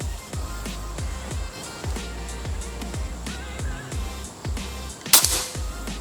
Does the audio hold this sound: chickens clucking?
no